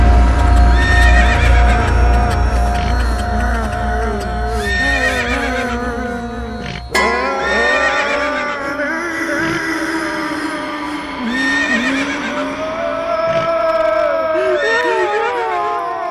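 A delman horse cart horse whinnies loudly and repeatedly, long neighs rising and falling over a continuous background with faint hoof clip-clop and some crowd noise, close and prominent throughout.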